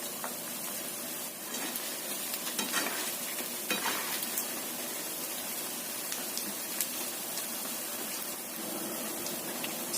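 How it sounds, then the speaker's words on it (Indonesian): Fried food pieces sizzle steadily in hot oil while being stirred and turned in the pan, a dense continuous crackle with occasional louder scrapes and splashes, no voices. "Yang udah kering, ini kita bolak-balik agar matangnya merata"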